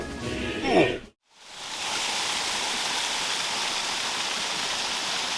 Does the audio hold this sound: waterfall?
yes